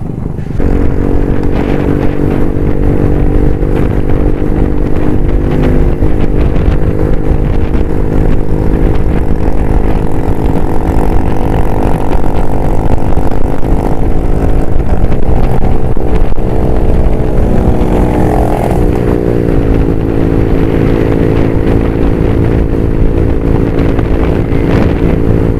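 A motorcycle engine running loud and close with a continuous throaty drone and a shift in pitch partway through, as if revved; no distinct backfire pops stand out.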